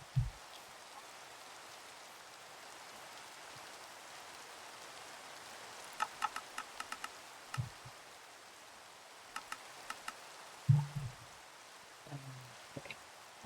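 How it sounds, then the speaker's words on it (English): Rain falls in the video game Minecraft as a soft, steady hiss, with scattered clicks and a few low thumps over it. "The rain is so laggy."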